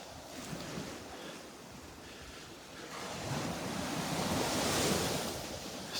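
Ocean surf rolls in at Delnor-Wiggins beach on an incoming tide, a continuous wash of waves swelling louder midway, with wind buffeting the microphone.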